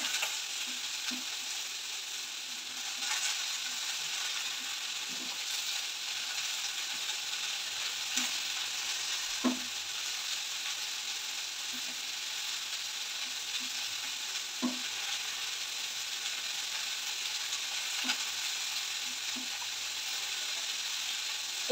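Dried red chillies frying in oil give a soft, steady sizzle that runs throughout, with occasional light taps and scrapes of stirring at irregular intervals.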